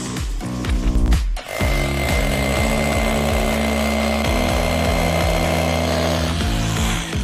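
A Festa SDS+ 800 W hammer drill chisels steadily and loudly, its motor droning with a rapid pulsing hammer rhythm that runs almost unbroken, with only a brief dip near the start.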